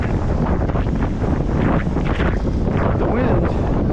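Strong wind buffets the microphone in a steady, loud roar outdoors during a solo job felling a massive dead spar, with gusty swells and no clear pauses throughout.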